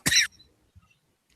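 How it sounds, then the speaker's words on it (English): A single short, sharp cough from a man, close to the microphone, followed by near silence and faint small noises. "he's got the cough now"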